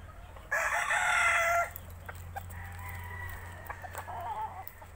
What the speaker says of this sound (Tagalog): Ito, ewan ko kung anong klase itong manok.